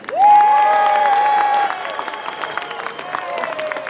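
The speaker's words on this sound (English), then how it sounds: "Please give a huge, huge round of applause for Iona Soper." An audience at a Scottish independence event in Glasgow breaks into loud applause and cheering, a sustained whoop ringing over the clapping at first before the crowd noise settles into a steady, busier wash.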